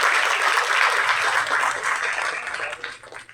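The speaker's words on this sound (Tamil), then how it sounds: "அவருக்கு ஒரு நல்ல கைத்தட்டு." An audience at a movie audio launch applauds a national award-winning makeup artist named Sasikumar with a burst of clapping that stays strong, then fades and thins out toward the end.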